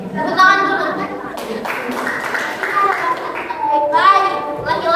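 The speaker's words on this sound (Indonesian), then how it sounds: "Tepuk tangan dulu." Junior high school students in a group counselling session clap their hands together. The applause is mixed with children's voices and chatter throughout.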